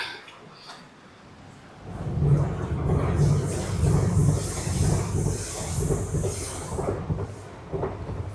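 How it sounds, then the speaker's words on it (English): A train rumbles and clatters past close overhead at Dawlish by the seawall, a loud, sustained rolling roar with rhythmic clacking and a faint hiss. "Train going overhead."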